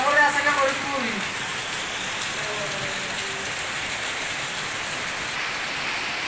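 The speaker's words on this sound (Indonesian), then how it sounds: "Jam berapa tadi datang hujannya, Bo?" Heavy rain pouring down in Medan during flooding, a dense, steady hiss that holds at an even level the whole time, with a brief tonal sound at the start.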